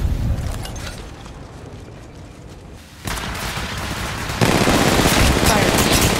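Sustained automatic gunfire from an Apex Legends Mobile firefight, dense and continuous, growing louder in two sudden steps as the shooting closes in, with a voice faintly present beneath the shots.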